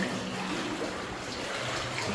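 Wading through deep water inside a flooded 1890s copper mine, with a steady, close sloshing and churning of water continuing throughout at a moderate level.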